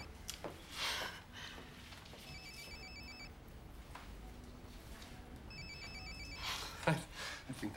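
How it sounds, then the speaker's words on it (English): A telephone rings in two electronic bursts, each trilling for about a second, heard at moderate level over a quiet room with a little background noise. "I think that's your phone that's ringing."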